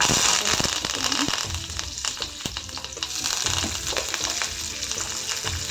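Curry leaves and coriander sizzle and crackle in hot oil for a bhindi masala curry, with a steady close frying hiss broken by stirring clinks.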